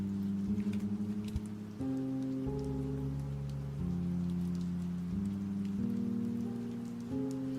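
Steady rain pattering on a surface fills the background while the Deltarune one-shot soundtrack plays as sustained, slowly shifting music tones, loud and continuous with no talking.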